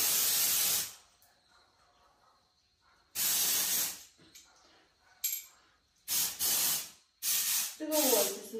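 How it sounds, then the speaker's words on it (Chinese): Hair spray is sprayed onto oily hair in a series of about five sharp, close hissing bursts. They vary from short puffs to one-second blasts, with quiet pauses between them. "我可以拿这个来拯救一下我的喷雾。"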